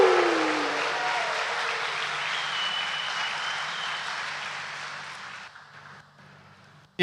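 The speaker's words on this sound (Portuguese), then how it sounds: "Uma salva de palmas para as mensageiras." A congregation at a church Easter vigil breaks into sustained applause, a dense wash of clapping that fades gradually over several seconds before cutting off.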